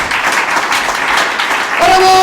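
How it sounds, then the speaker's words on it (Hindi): A church congregation at an Urdu service in Sohar claps loudly and continuously, with a voice rising over the applause near the end. "आइए खुदावंद के लिए जोरदार तालियां बजाएं"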